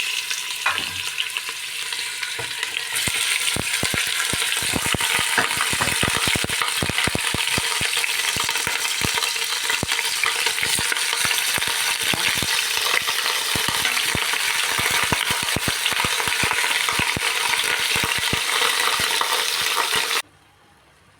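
Chicken pieces dropped into hot oil in a pot for a white broth, then a loud, steady, close sizzle with scattered stirring clicks that continues unbroken until it cuts off at the end.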